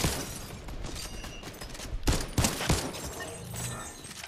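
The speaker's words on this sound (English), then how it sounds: "Oh, I'm getting shot at." Gunfire in the Fortnite video game, a dense fusillade of rapid shots under steady game noise, with sharper, louder bursts around the middle and a slightly quieter close.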